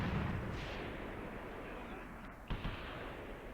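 Gunfire and artillery rumble in the Graviteam Tactics war game: a dull, booming wash of distant fire with one sharper report near the end, moderately faint.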